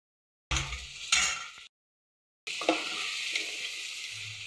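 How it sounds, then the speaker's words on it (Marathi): Goat mutton sizzles in a hot pan while a spoon stirs it, two bursts of scraping and frying, a pause, then steady loud sizzling. "हे बघा हे असं व्यवस्थित मिक्स करून घ्यायचं"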